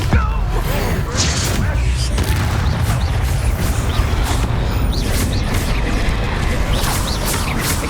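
A Bombarda blasting spell exploding in the video game Hogwarts Legacy, booming impacts over a constant loud battle din of crashes and rumble, with a voice calling out spells.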